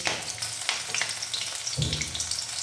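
Small pakoras of drumstick flowers and peas fry in hot oil over a low flame, giving a steady close sizzle with crackling and popping throughout.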